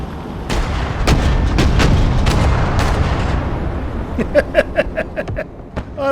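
Direct fire on targets in the Broken Arrow military strategy game, several heavy, booming cannon shots at first, followed by a quick, crisp string of sharper gunshots near the end.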